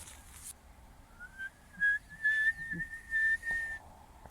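A person whistles to call dogs outdoors in a series of breathy, wavering notes, some short and a few longer, fairly close against a quiet background.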